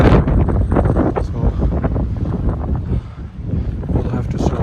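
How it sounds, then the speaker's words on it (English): Strong wind buffeting the microphone at a mountain viewpoint on the Yates Mountain hike near Jewel Pass, a loud continuous rumbling roar with gusty surges and no pause. "It's quite windy."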